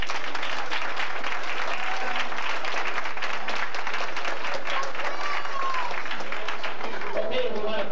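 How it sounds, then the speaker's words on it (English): Steady audience applause at a 1992 Blue and Gold awards ceremony for boys and their parents, dense clapping filling the room for the whole stretch, with faint voices underneath. "Give the boys and their parents a nice round of applause."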